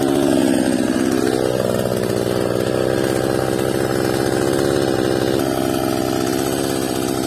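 A Husqvarna 545RX brushcutter trims dandelions along a garden path, its two-stroke engine buzzing loudly and close, pitch rising and dipping as the throttle and load change, running continuously without talk.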